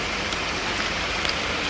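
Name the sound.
heavy rain falling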